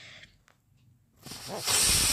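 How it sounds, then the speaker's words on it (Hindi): Pressure cooker whistle while cooking jackfruit curry on a gas stove, a loud steady steam hiss that swells up after a quieter stretch and runs on to the end. "और ये लीजिए दूसरी सीटी हमारी लग गई है"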